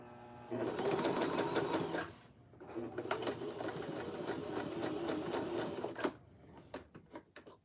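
A Janome sewing machine sews a back stitch with a steady, fast mechanical whir that pauses briefly and then resumes before slowing to a stop. A few clicks and rustles follow, close by.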